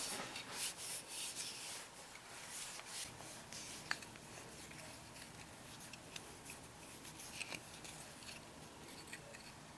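A bare hand rubs boiled linseed oil into the wooden stock of an M72 RPK rifle, making a soft, quiet, close swishing friction with occasional light ticks.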